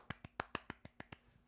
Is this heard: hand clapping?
yes